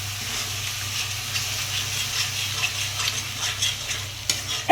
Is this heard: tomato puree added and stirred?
yes